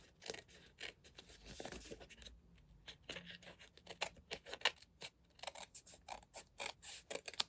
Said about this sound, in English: I'm just going to use my snips and